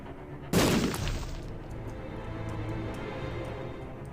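A bomb goes off in The Binding of Isaac: one sharp, loud game explosion bursts out, then fades into a low rumble with faint ticking behind it.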